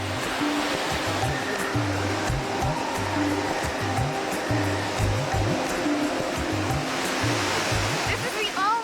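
A waterfall in Malaysia roars as a steady, loud broadband rush of falling water, close by, with a low rhythmic rumble underneath and no talk.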